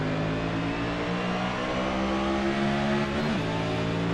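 Race car in a racing game accelerating off the green flag, a steady loud engine drone with stacked harmonics that rises slightly in pitch, then shifts gear near the end, with no talking.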